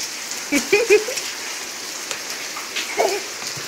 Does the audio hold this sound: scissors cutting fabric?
no